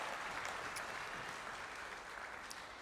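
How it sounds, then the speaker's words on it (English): A crowd at a high school athletics hall of fame induction ceremony applauds in a faint, distant, steady wash of clapping. "One more round of applause,"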